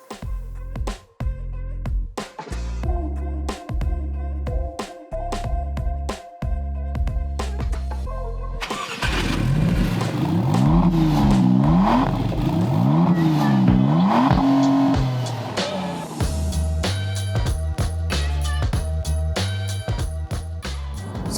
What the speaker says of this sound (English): You can hear the feedback of the car performing as you put your foot down and hear that V6